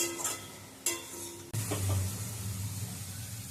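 Soya chunks and spices being stir-fried in a pan for soya pulao, soft sizzling under scraping and clattering stirring strokes, with a couple of sharper knocks against the pan.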